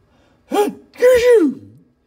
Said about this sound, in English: sneezed the chief